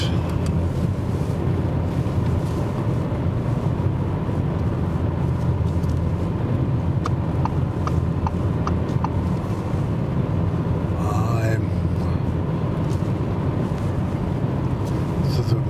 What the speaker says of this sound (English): The car is not so loud as it was before.